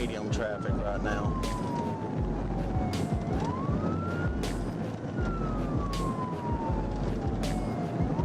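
A state trooper's police siren wailing during a high-speed pursuit on a highway, the tone sweeping slowly down and up over loud road and engine roar, with sharp clicks and bursts of noise in the background.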